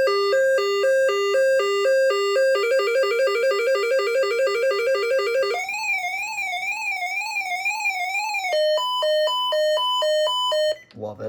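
A Whistler WS1025 scanner runs its weather alert test, sounding loud electronic tones that step from pulsing beeps to faster warbling siren-like sweeps, close and piercing, before cutting off at the end.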